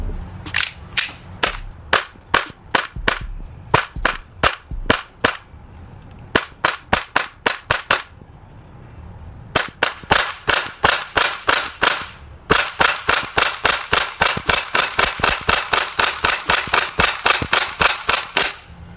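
Airsoft Glock 18C gas blowback pistol firing dozens of sharp, snappy shots in quick bursts during a 1,000-round torture test, with brief pauses between strings and a near-continuous rapid run at the end.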